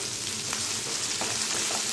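Green chilies and curry leaves are sautéed in oil with onion and a steady loud sizzle, with faint stirring scrapes now and then beneath it.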